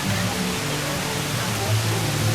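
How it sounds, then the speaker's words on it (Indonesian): Steady roar of Curug Sikarim waterfall, a dense, unbroken rush of falling water filling the air at constant loudness with no voices. "Semakin dekat dengan air terjun, suara gemuruh air semakin keras terdengar."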